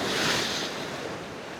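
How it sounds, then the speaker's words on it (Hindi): Strong sea waves crash against a coastal hill range, a loud, dense roar of surf with wind buffeting the microphone, steady and close throughout. "इसी पहाड़ी सिलसिले के साथ बहुत तेज़ लहरें टकरा रही हैं"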